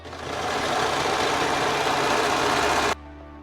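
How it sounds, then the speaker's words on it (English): Sewing machine stitching a top's collar, a steady, loud, close mechanical whir running continuously for about three seconds before stopping abruptly. "I'm gonna sew it where it has its opening."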